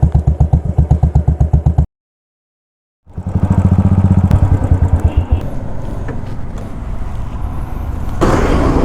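A custom KGF-style motorcycle exhaust fires in loud, rapid rhythmic pulses, cuts to a brief silence, then roars back in a sustained rough rumble right up close.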